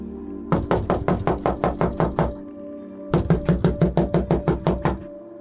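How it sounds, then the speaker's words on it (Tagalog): Loud knocking on the door of a house at night, two quick bursts of about ten sharp, evenly spaced raps each, with a short pause between them and no voices. "Malakas ang naging katok ni Lucia sa pintuan ng bahay."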